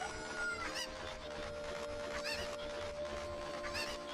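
Cuckoo chickens from the video game Zelda: Ocarina of Time, with repeated clucking and squawking calls over steady game background sound, no talk.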